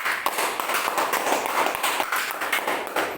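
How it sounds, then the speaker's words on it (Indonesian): Students in a school classroom clap for a student group, a brisk, scattered round of hand claps from a small group that stays fairly steady throughout. "Tepuk tangan untuk kelompoknya Duita"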